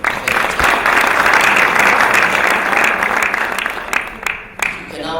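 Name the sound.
round of applause at alumni conference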